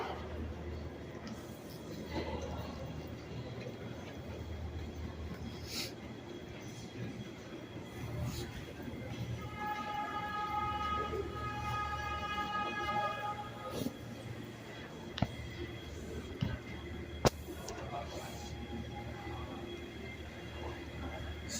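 A New York subway A train pulls into a station platform near Madison Square Garden, a steady rumble of rolling cars with rising tonal squeals from the wheels and a few sharp clanks, over echoing station ambience.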